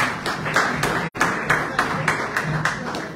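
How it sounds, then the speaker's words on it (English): A crowd applauds the arriving Barcelona Legends football team in Zambia, with rhythmic, fairly close clapping that cuts out for a split second before resuming steadily. "Big round of applause for them."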